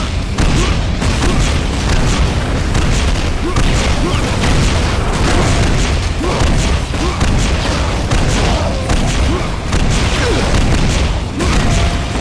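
Artillery and tank explosions in the video game Painkiller, a continuous loud barrage of booms and crashes filling the whole stretch, dense and close, with speech mixed in.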